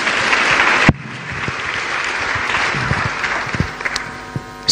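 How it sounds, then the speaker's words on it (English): Audience applause at a church ministry gathering, a loud burst of clapping that cuts off sharply, followed by scattered lighter claps and faint room noise. "So clap for me so that I get there."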